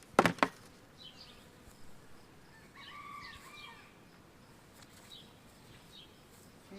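Honeybees at an opened hive, about a thousand of them agitated, hum in a faint, continuous buzz, with a sharp clatter at the start and soft rustling throughout.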